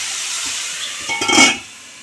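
Onions fry in a pan for a raw banana and mango curry. A steady soft sizzle is followed by a brief burst of stirring and louder hissing near the end.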